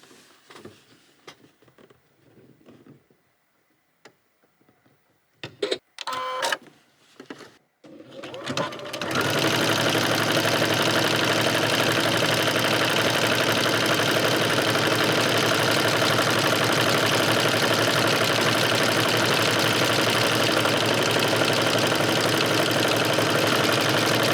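After a few quiet clicks and adjustments, a sewing machine starts stitching a 1-step buttonhole and runs at a steady, loud, continuous whir with a fast even rhythm for the rest of the stretch, with no talking over it.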